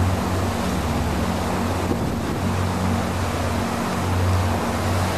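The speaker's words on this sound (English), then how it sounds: "I'll just tell you about that lovely big waterfall out there behind us, the Bowen Falls" Bowen Falls in New Zealand, a big waterfall dropping from the ranges, heard as a continuous distant roar of falling water mixed with wind and a low boat engine hum.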